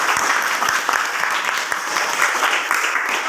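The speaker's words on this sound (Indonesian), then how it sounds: "Berikan tepuk tangan." Applause rises from a room of people after a farmer-turned-entrepreneur is introduced, a steady dense patter of many hands clapping at close range for a few seconds without pause.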